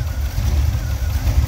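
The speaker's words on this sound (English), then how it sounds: "So I'm just letting the motor warm up." A car engine with a freshly fitted HEI distributor idles while warming up, a steady low rumble running close and continuous with no other sounds over it.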